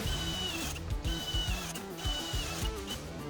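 A small step drill bit pre-drills holes in steel for a smokeless fire pit, giving a close, loud, whining motor tone that rises and drops with several repeated bursts.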